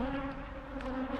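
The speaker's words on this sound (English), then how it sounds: "All these bees are mad at me" Agitated honeybees swarm around a beekeeper at a failing apiary, their loud, steady buzzing drone close to the ear, with individual bees whizzing past, and no talking.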